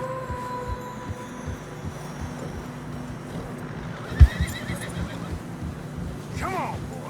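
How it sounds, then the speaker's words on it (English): Horses in Red Dead Redemption 2 plod through fresh snow on a narrow path with steady muffled hoofbeats and snorting, a sharp thud and a whinny midway, moderately close over ambient wind and faint speech. "Horses are getting tired."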